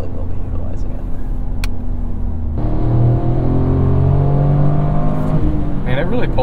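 A 2023 Toyota GR Corolla Core accelerates hard, its engine note climbing loudly from inside the cabin as revs rise through a gear, with a steady road rumble beneath.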